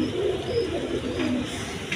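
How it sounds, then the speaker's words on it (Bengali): Fancy pigeons of various breeds, including Budapest and crested types, kept in a loft, coo in soft, low, repeated throaty calls close by, with no talk. "তারপরে বিভিন্ন রকমের কবুতর আছে"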